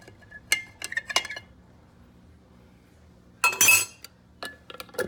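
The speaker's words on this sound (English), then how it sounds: "So I'm just going to take my spoon, kind of loosen all that up." A metal spoon clinks and scrapes inside a glass jar of honey and elderberries, a few sharp taps early on, then a louder burst of clattering, followed by lighter clinks near the end, close and with no one talking.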